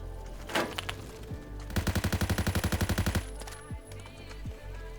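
Rapid burst of FN FAL gunfire in the first-person shooter Phantom Forces, about fifteen evenly spaced loud shots in the middle, with a single earlier shot and faint game effects around it.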